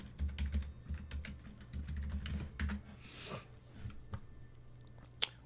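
Quick bursts of clicks on a computer keyboard come close and fairly faint in uneven runs, with a pause partway through and a sharper tap near the end.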